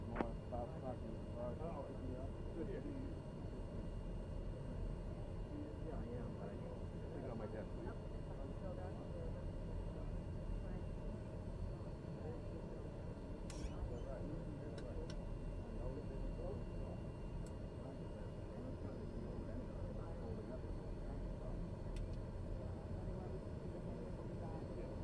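A TBM850 turboprop taxiing at Edinburgh in a flight simulator, with a steady droning engine hum throughout and faint voice chatter over it.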